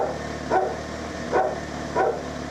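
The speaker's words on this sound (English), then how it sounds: "Dumbo's still barking in the background." A dog named Dumbo barks three times in the background at a family home, evenly spaced single barks of moderate loudness over a steady low hum.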